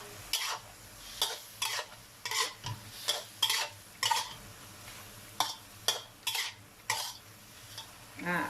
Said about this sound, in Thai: แล้วก็ผัดต่อเลยค่ะ